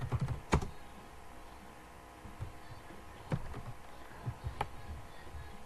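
Keys clatter on a computer keyboard in scattered bursts and single taps, fairly faint and close, with short pauses between strokes in a quiet room.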